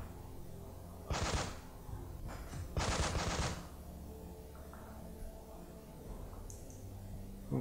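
Gunfire in the tactical video game Breach & Clear during a room breach: two loud bursts of automatic fire about two seconds apart, then a few faint clicks and thuds.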